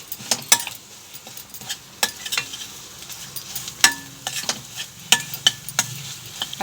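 A spoon stirs crushed peanuts into a cowpea curry in a pan, making irregular scraping clicks against the metal over a soft sizzle, close up and with no talking.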